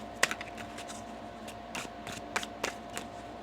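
Tarot cards are shuffled by hand at close range, producing soft, scattered riffling clicks and snaps in short irregular bursts over a quiet background, with no talking.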